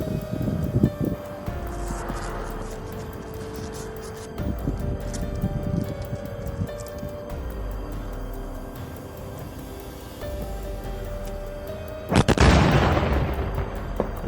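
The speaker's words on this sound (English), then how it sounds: "The explosive device has been destroyed." An explosive device being destroyed, heard as several heavy booms and distant thuds over a low background rumble, ending in one loud close blast with a long rolling tail.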